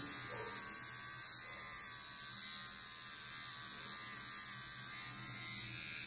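A Kemei KM-1974A electric clipper runs steadily while shaving a beard, giving a continuous close, high-pitched motor buzz with no pauses.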